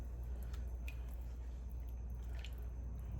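Oxtails are mixed into a jerk marinade, giving faint wet squishes and drips over a low steady background hum.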